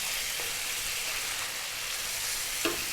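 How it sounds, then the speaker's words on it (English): Fresh curry leaves crackle and sizzle in hot oil for a beef curry, a steady broadband frying hiss throughout with a sharp pop near the end. "We're going to drop in now our curry leaves, fresh curry leaves, if you can find them."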